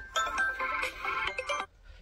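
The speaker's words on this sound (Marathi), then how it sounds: "कोणाचा फोन आहे" A mobile phone ringtone rings out in an outdoor farm setting near a well, a bright repeating electronic melody lasting about a second and a half before cutting off, with low background noise.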